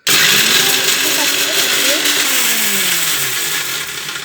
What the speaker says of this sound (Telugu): ఇలా ఒక రౌండ్ పట్టుకోవాలి మిక్సీ.